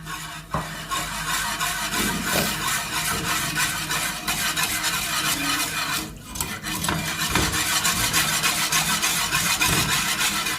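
A spoon stirs chicken lasagne sauce in a pan: continuous close scraping and rubbing with a soft simmering sizzle, with occasional louder knocks against the pan.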